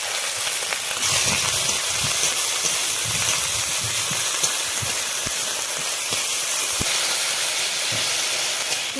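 Onion, garlic, cumin and coriander paste frying with added water in a pan gives a steady, close hiss and sizzle with faint crackles throughout, no talking.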